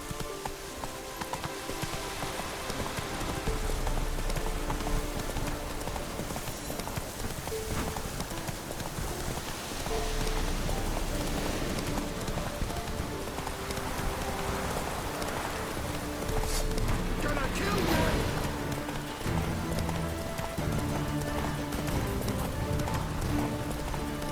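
Roach the horse galloping in The Witcher 3, steady rapid hoofbeats clattering throughout amid rain and ambient game sound, with no talk.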